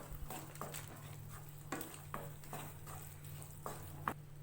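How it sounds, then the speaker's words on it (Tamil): Curry masala powder sautéed in oil for a Tamil brinjal gravy, a quiet sizzle under repeated scraping stir strokes of a spoon against the pan, several light taps spaced through the clip. "மசால் வந்து இந்த எண்ணெயில் லேசாக வதக்கி விட்டுக்கலாம்."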